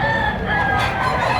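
Chickens and a rooster crow and cluck at a poultry market in Padre Garcia, Batangas, a continuous dense layer of bird calls filling the whole stretch with steady market hubbub beneath.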